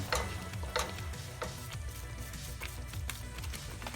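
Shan masala for beef nihari fries and gets stirred in a pot, giving a soft, steady sizzle with faint rhythmic scrapes and taps of the spoon, quiet and close with no voice.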